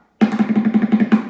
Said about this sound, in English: That's the sound of the trash can.